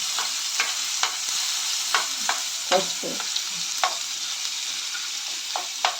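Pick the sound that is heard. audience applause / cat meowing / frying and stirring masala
frying and stirring masala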